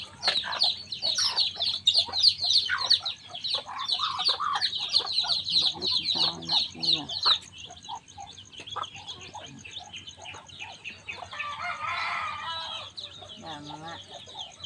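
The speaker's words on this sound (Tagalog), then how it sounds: "Mga tuan kanang pato nga sa kulungan." Chickens clucking and a rooster crowing among other birds in a countryside farmyard in the morning, with caged ducks nearby, faint chirps and background voices, close and continuous.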